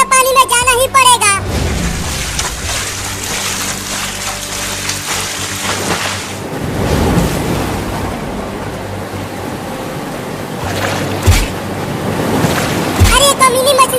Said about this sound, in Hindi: मम्मी देखो ना अभी भी बारिश बहुत तेज हो रही है